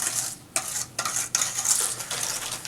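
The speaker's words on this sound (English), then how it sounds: "So you just want to whisk out all the little clumps of the sugar." A whisk beats pumpkin, oil, orange juice and sugar in a bowl, giving quick repeated wet scraping strokes with brief pauses between bursts, close and fairly loud with no talking.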